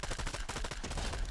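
Rapid weapon fire in Fortnite, a dense stream of loud shots with a slightly uneven cadence, as if between automatic and single-shot, packed tightly across the short burst.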